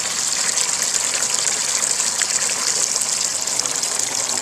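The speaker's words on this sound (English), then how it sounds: "So that's actually pretty clean water. Just straight out of the tap." Water gushing from a garden hose fed straight from the tap, a steady, bright rushing spray that runs continuously and close, with no break.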